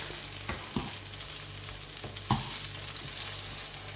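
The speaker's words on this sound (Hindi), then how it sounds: "अच्छा सा इनको फ्राई करना है, ब्राउन।" Ingredients for yogurt brinjal masala frying in hot oil, a steady sizzle with occasional stirring scrapes and clinks over a continuous crackling hiss, close and without speech.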